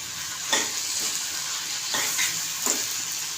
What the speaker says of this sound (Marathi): ओबडधोबड कापून टॉमॅटो थोडंसं मीठ टाकते म्हणजे टॉमॅटो पटकन आपलं नरम होईल